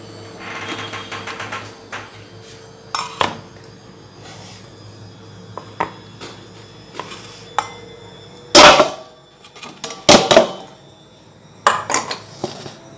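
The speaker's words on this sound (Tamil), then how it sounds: "எடுத்து வேறு ஒரு பிளேட்டில் ட்ரான்ஸ்ஃபர் பண்ணிக்கலாம்" Steamed sathu maavu puttu is moved onto a plate, with scattered clinks and scrapes of metal utensils and dishes, sharp and close, separated by quiet pauses.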